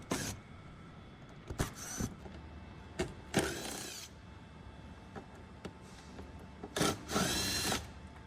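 Power drill backing out screws from the bed of a Speed UTV, heard as several short whirring bursts spread apart with quiet gaps between them.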